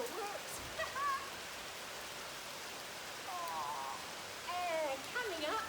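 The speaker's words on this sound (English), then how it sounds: "It's raining." Steady outdoor rain hiss fills the background, a soft continuous wash with faint bird calls and murmuring voices at a distance.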